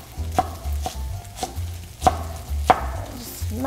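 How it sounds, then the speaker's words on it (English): A knife chops a local sweet potato into rough segments on a board, five or six firm, close knocks at an uneven, unhurried pace over a low steady hum. "I am going to start cutting up my sweet potato, local by the way"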